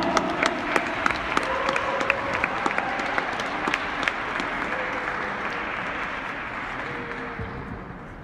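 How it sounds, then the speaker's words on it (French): Audience applause for a singing duo about to perform, dense steady clapping from a crowd at moderate distance, with sharper individual claps standing out, sustained for several seconds without talk. "On les applaudit très fort!"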